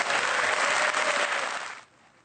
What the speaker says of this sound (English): applause very rare in Parliament